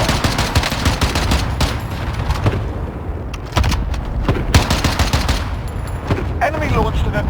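A Call of Duty cluster strike sets off a rapid string of heavy explosions and crackling blasts, loud and close, with a short lull in the middle before the detonations resume.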